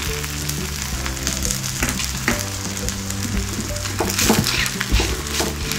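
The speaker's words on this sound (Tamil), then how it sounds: "சப்பாத்தி நல்லா வேகட்டும், திருப்பி விட்டுக்கலாம்." A vegetable chapati cooks in ghee on a hot pan, giving a steady, close crackling sizzle with small pops throughout, briefly intensifying toward the end.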